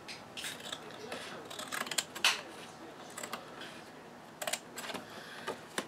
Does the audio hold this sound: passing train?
no